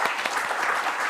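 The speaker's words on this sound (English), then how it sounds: "So one last round of applause for them." Audience applause at a liberty forum award presentation, a steady wash of clapping from a crowd that holds evenly throughout with no voices on top.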